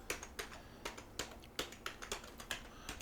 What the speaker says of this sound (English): simply type in